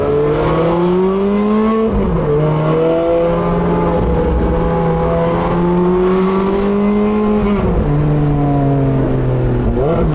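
A Ferrari F8 Spider sports car engine runs loud and close, holding a steady drone that rises and falls as it revs, with brief dips where gears change.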